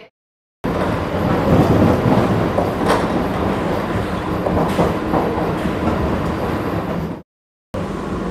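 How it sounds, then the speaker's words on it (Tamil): A new Chennai AC EMU local train runs at speed, heard from on board as a loud, continuous rolling rumble with rhythmic rail clatter and occasional louder joints, with brief silent cuts at the start and near the end. "அதுதான் சென்னை ஏசி லோக்கல் ட்ரெயின்."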